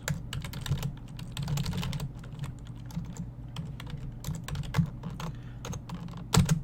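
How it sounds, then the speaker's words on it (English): Fast typing on a computer keyboard, a rapid, uneven stream of close, crisp keystroke clicks over a low background hum, with occasional heavier key hits. "You hear the keystrokes."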